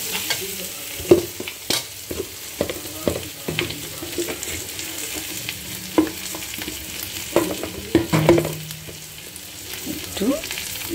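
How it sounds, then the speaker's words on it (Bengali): Food frying in a pan is stirred with repeated scraping and clattering strokes over a steady sizzle, close and fairly loud, with no voices. "আবার একটু নাড়িয়ে চাড়িয়ে নিয়ে নেব।"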